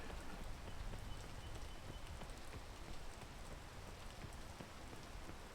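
Steady rain falls as a soft, continuous patter with no clear gaps, faint and fairly distant, with no voices over it.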